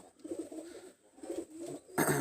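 Pigeons of a Teddy Kamagar Golden pair coo softly in low repeated phrases, close by, with a louder burst of fluttering or rustling at the very end.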